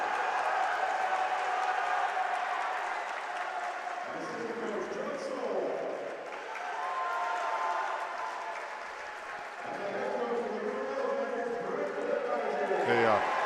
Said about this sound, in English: Yellow Jacket assistant coach is now receiving their medals and getting a nice round of applause from the crowd here